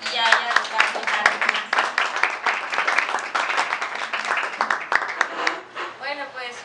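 Applause from an evening audience welcoming a poet and singer, steady clapping mixed with crowd voices and chatter throughout, moderately loud and continuous.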